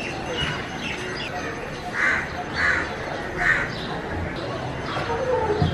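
A crow caws three times at a moderate distance near a kitchen garden, the calls standing out over steady outdoor background noise.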